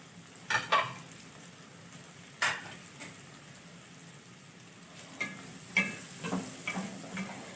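Onion sautés in a pan for pigeon stuffing, a faint steady sizzle broken by a few sharp spoon scrapes and taps against the pan, close and quiet.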